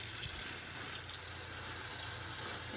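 Tap water runs steadily over freshly harvested dandelion greens being rinsed in a sink, a continuous close splashing hiss with no talk.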